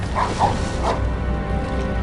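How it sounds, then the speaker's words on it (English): In the Harry Potter and the Prisoner of Azkaban video game, a dog gives a few quick barks and yips over a low, steady game soundscape. "That sounded like a dog."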